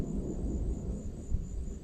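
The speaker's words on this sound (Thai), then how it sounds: "มีเสียงฟ้าร้องแล้วก็ฝนเริ่มปล่อย ๆ ลงมาครับ" Low, distant thunder rumbles steadily over a forest campsite in Thailand during the rainy season, with a faint hiss that may be the first rain beginning to fall.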